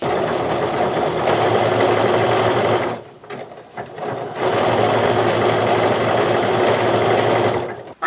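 An overlock sewing machine stitches the edge of a sweater and fleece, giving a steady, loud mechanical whir that pauses briefly in the middle before running on again, close up.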